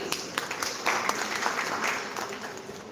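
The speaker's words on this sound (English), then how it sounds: "A big round of applause for all of them, please." Audience applause at a college career expo and campus placement fair, a steady burst of clapping from a crowd that swells midway and continues for several seconds, with no talk over it.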